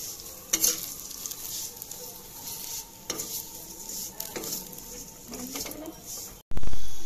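Food frying in ghee in a pan, stirred gently, a steady sizzle punctuated by scraping strokes of a spatula, close and fairly loud, ending with a sudden louder burst.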